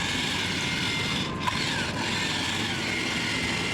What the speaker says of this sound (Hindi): तो अब डाल रहे हैं ट्रैक्टर को हाई आरपीएम में।